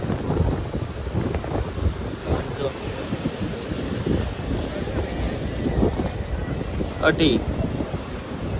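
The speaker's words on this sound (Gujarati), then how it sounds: "જે મોજા આવે ને એ તો તમે જો કેવા મોજા અહીંયા આવે છે" Sea waves wash in at Dumas beach, a continuous rough surge of water blended with gusting wind noise on the microphone, while a person talks briefly over it.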